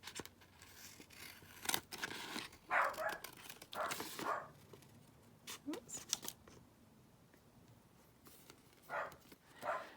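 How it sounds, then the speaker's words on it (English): A dog barks in short bursts some distance away, scattered and fairly faint, amid paper rustling and snipping close by. "The dog's barking."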